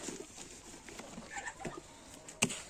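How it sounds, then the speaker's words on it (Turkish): Chickens in a village setting give soft, scattered clucks over a steady background hiss, with a sharper sound near the end. "Tavuklar bir rahat bırakmadı ya."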